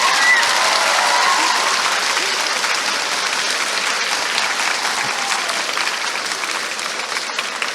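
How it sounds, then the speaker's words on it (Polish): Sustained audience applause for author Rebecca F. Kuang at a Warsaw fantasy convention, a dense, steady wash of clapping from a large crowd that holds even throughout and eases slightly near the end. "Także bardzo proszę o gorące brawa dla Rebeki."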